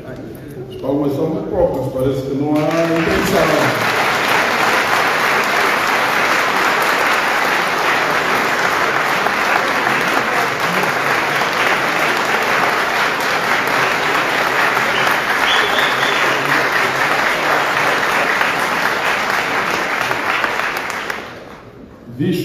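A voice speaks briefly before a hall at an official UNITA deputies' signing ceremony in Angola breaks into long, dense, loud applause that holds steady for nearly twenty seconds and then cuts off.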